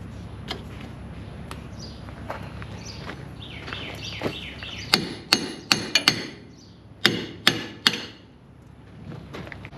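A rusted, stuck type 20 service brake chamber is struck with a hammer. Sharp metallic blows ring out in two clusters of about four, close and loud, after quieter handling noises.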